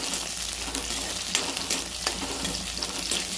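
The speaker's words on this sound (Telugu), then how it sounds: "కడాయి పెట్టుకొని నూనె అయితే పోసుకున్నా, జీలకర్ర వేసేసిన, ఉల్లిగడ్డలు, పచ్చిమిర్చి, కరివేపాకు మంచిగా కలుపుకోవాలి" Onions, green chillies, curry leaves and cumin fry in oil in a kadai, a continuous crackling sizzle with occasional louder stirring scrapes, close and steady throughout.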